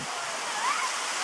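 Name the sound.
waterfall after heavy rain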